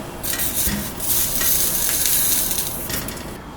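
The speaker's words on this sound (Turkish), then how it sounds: "Ateşin üzerine patlıcanlarımızı yerleştiriyoruz." Eggplants roasting over an open flame give a dense, close crackling and hissing, with popping bursts and a constant rushing roar, loud and continuous with no voices.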